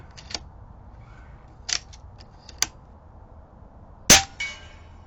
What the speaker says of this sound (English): let's just take a couple shots to make sure we're still on target